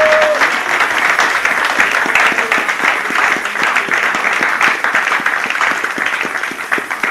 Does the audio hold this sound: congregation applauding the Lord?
yes